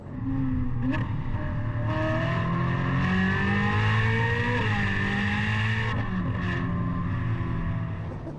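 Ferrari 458 Italia with a Novitec valved sport exhaust, its V8 droning loud and steady close by as it accelerates and shifts, with brief revs near the start and end and no talking.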